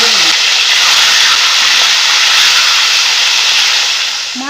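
Fish pieces fry in hot oil in a home kitchen, giving a loud, steady broadband sizzle and hiss that runs nearly unbroken throughout and eases slightly toward the end.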